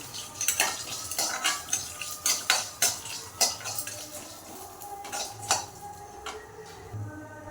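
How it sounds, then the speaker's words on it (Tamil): Fennel seeds and peanuts roast in a pan, stirred with a metal spoon that clinks and scrapes in a quick irregular rhythm over a faint sizzle. "சோம்பு சேர்த்துக்கோங்க வேர்க்கடலையும் சேர்த்து நல்லா இதெல்லாம் வறுத்துக்கோங்க"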